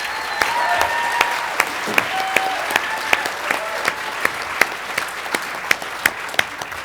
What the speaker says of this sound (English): I think it's important to have a round of applause to our MCs, who did a great job tonight, Amanda and Spe